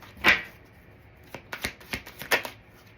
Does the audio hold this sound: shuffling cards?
yes